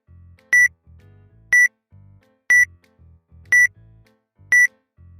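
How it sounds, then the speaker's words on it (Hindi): A five-second countdown timer beeps five times, one sharp high-pitched tone each second, loud and evenly spaced, with soft ticking between the beeps and no speech. "तो पहले 5 सेकंड का टाइमर स्टार्ट कर लेते हैं"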